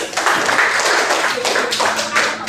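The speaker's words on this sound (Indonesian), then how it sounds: "tepuk tangan untuk Mas Davano." A primary school class claps for a classmate, a brief burst of close, bright applause from many hands lasting a couple of seconds.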